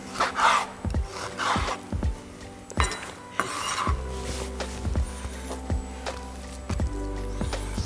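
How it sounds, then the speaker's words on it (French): A knife cuts beef against the grain on a board for Thai basil beef. Irregular strokes come close and clear, mixing sharp taps with scraping slices, and no one talks. "Vraiment couper dans le sens contraire des fibres permet d'avoir une viande beaucoup plus tendre"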